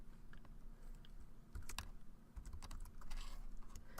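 Typing on a computer keyboard while naming a project or database, a quiet run of irregular clicky keystrokes with no talk.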